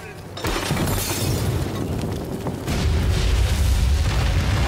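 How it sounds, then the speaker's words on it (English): A loud, rumbling explosion in the video game South Park: The Fractured But Whole bursts in and roars on with crackling debris, swelling again partway through; no talking. "Why did that explode?"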